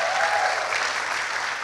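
A church congregation applauds at an anniversary Sunday service, a brief, loud and dense burst of clapping that stays level throughout with no voices over it.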